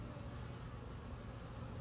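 Steady, dense buzzing of many honey bees fills the whole stretch, a constant low hum with no breaks, fairly quiet and close.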